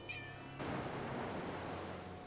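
A cat in the video game Sophia The Traveler gives a single short, high meow, followed by a soft, steady background hum with no voices.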